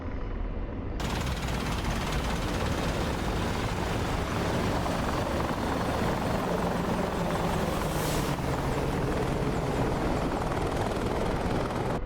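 Simulated Apache attack helicopter making a low flyby in the DCS World combat flight game: a loud, steady rotor thrum and turbine whine fill the whole clip, swelling briefly near the end as it passes close.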